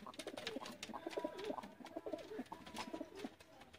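Wild blue-tailed pigeons kept for sale coo in soft, repeated throaty phrases close by, with a male among them and several birds layered over a steady background hum.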